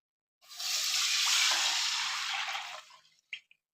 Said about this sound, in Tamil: இந்த பாருங்க, கரைச்ச மாவை இதில் ஊற்றிடலாம்.